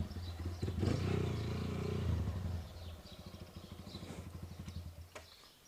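A motorcycle engine runs close by, loud and steady at first, then settling into a lower, rhythmic idle chug with occasional clattering; no speech.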